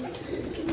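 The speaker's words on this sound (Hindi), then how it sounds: "दोस्तों कबूतर आ रहे हैं लेकिन मेरे से डर भी रहे हैं" Pigeons coo close by in a brief burst, with soft murmuring calls and a faint higher chirp over quiet background.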